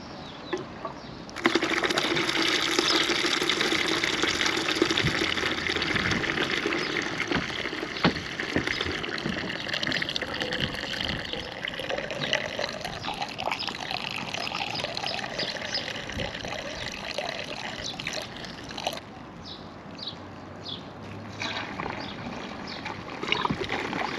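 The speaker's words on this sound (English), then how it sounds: "I'll run a load of hot water through it just to rinse it through." Hot water running steadily through caravan waste pipes, a continuous close rushing and gurgling flow that starts abruptly and carries on throughout with small splashes and knocks.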